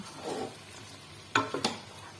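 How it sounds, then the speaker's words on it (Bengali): Radish sautéed in oil in a pan for a Bengali curry gives a soft, steady sizzle, broken by two or three sharp scrapes as it is stirred, heard close. "তো আমার মূলাও প্রায় কষানো হয়ে গেছে।"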